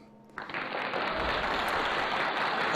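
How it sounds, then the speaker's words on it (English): Applause for a guest on a live show starts abruptly after a brief quiet moment, then holds as a dense, steady wash of clapping from the audience. "Let's give Lloyd a big round of applause"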